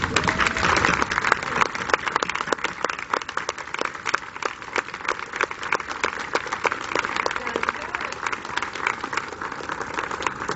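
An audience applauds family members of scholars at a scholar reception, steady sustained clapping from a room full of people lasting throughout, dense and even with no break.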